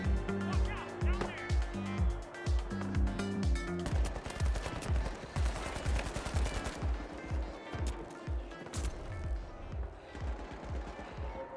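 Rapid gunfire in The Finals, an online shooter, with dense repeated automatic bursts and sharp impacts layered over game music and effects, while players talk over the action.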